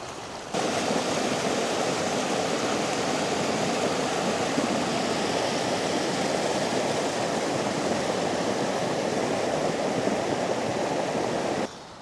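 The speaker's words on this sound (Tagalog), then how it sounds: "pakinggan nyo po yung agos ng tubig" A mountain stream flows hard near the Kennon Road tunnel after a landslide, a steady, full rushing roar that holds at an even level from start to end, heard alone without talk.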